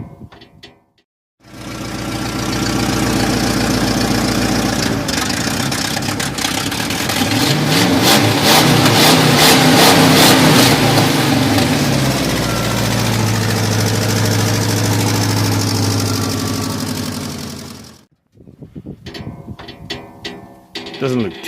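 A Ford F250's small-block V8 Boss 302, newly revived after years sitting in a field, runs loud and close, holding a steady rough idle with a brief rise in revs mid-way before cutting off.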